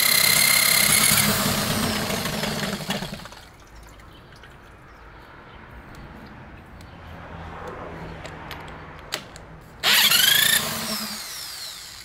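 A 1988 6hp Johnson Evinrude outboard motor runs loudly at close range with a buzzing harmonic drone, then drops away to a faint, uneven putter with a few clicks before suddenly roaring back up near the end.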